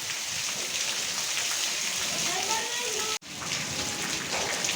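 Heavy unseasonal rain falls on farmland in a steady broadband patter, close and continuous for the whole stretch with only a momentary break.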